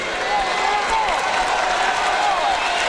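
Arena crowd at a boxing title fight in Landover, Maryland, cheering and applauding after the bout, a dense, steady roar with rising yells and whistles, loud and continuous throughout.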